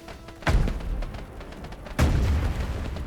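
Two heavy booming blasts from ships being destroyed in the airship battle game Airships: Conquer the Skies, about a second and a half apart, each a loud sudden thump that rumbles off, with no talk.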